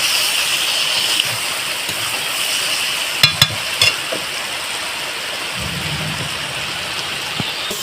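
Prawns frying in oily spice masala in a pan, with potol in the dish, give a steady close sizzle and crackle throughout, a few sharp clinks of stirring near the middle and a low scraping rumble toward the end.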